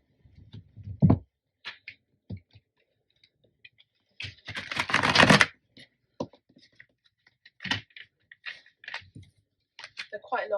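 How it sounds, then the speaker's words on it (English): Long tarot cards being shuffled by hand, giving bursts of papery riffling and slapping with one dense, louder flurry near the middle, close and clear with pauses between. "So I'm just going to go and shuffle them now."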